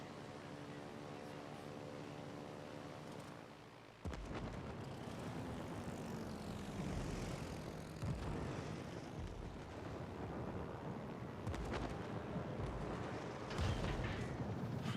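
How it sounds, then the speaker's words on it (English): Propeller aircraft engines drone overhead in a naval combat video game, a steady roar with bursts of gunfire or explosions mixed in, continuous for the whole stretch. "Why are there planes?"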